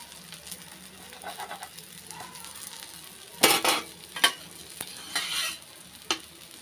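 Thanjavur-style oorappu adai batter cooks in oil on a pan over low heat, a quiet background sizzle punctuated by several sharp scraping and tapping bursts of a utensil against the pan.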